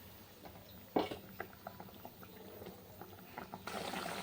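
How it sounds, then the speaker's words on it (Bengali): Fish curry gravy bubbling in a pan, a faint, close simmer with scattered small pops and one louder splash near the start, followed by a rise in hiss toward the end, with no talking. "ঝোলটা ফুটে গেছে, মাছটা দিয়ে দিলাম।"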